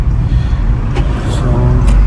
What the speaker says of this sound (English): So I'm just taking out the car for a drive.